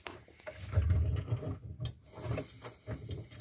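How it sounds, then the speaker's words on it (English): A screw being driven into place on a Turner Hastings Claremont traditional toilet flush plate mechanism. Close, quiet mechanical clicks and scraping in short bursts, with no voice. "Put that screw there into place."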